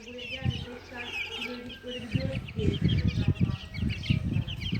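Young chicks, some Australorp, clucking and peeping close by, a busy scatter of short chirps and clucks with a voice speaking faintly underneath.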